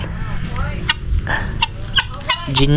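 Guinea fowl call noisily in a farmyard, with repeated harsh, rhythmic cackling cries close by, and other birds chattering in the background.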